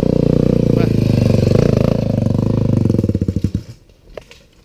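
A trail motorcycle at an off-road trail ride event in Kaloré, Paraná, runs with a loud, close, chugging engine that pulses unevenly, sputters and cuts out, leaving quiet with faint voices afterward.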